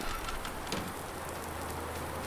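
Steady rain in the Farming Simulator 19 game, an even, continuous hiss of falling drops on a farmyard, moderately loud with no talking.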